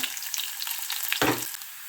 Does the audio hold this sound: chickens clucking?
no